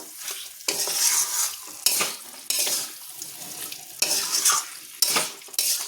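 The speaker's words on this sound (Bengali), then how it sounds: "এবার এই মশলার সাথে আমি এই মাংসটাকে ভালোভাবে কষে নেব।" Chicken pieces sautéed in masala in a hot pan, stirred in steady rhythmic strokes roughly once a second, each a loud, close hiss and scrape over a background sizzle.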